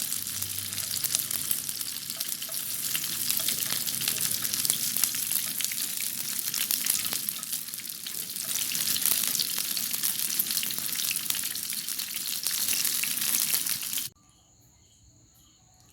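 Vegan chicken drumsticks fry in a pan over low heat, a steady dense sizzle and crackle running without a break for about fourteen seconds before cutting off abruptly into near silence.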